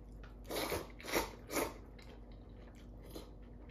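Crunchy chewing of menma bamboo shoots eaten with tsukemen dipping noodles, three close, wet bites in quick succession followed by a softer fourth, with no talking.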